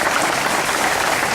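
Steady, dense applause from a crowd at a political campaign kickoff rally, loud and continuous throughout.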